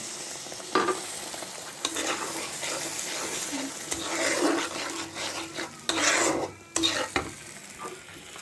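Mustard hilsa being stirred and fried in hot oil: a steady sizzle runs throughout with scraping stirring strokes and louder bursts near 1, 2, 4.5, 6 and 7 seconds, close and unaccompanied by speech.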